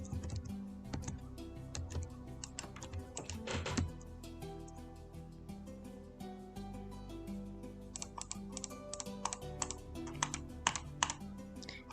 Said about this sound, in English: I know you can hear me clicking and then typing